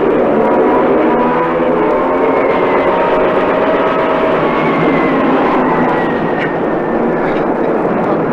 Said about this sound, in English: They must have an aircraft for every man we have on the islands. They're swarming.